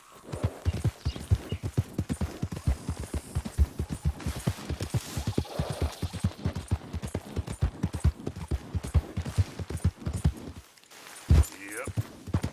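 A horse in Red Dead Redemption 2 gallops with rapid, steady hoofbeats close up for most of the stretch, then slows near the end, with a person talking briefly.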